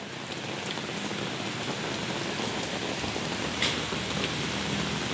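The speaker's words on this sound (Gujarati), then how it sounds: "ગાઈસ વરસાદ જોવો ખાલી." Rain pours down outdoors in a steady, dense hiss of drops that stays even and fairly loud from start to finish, with no voices over it.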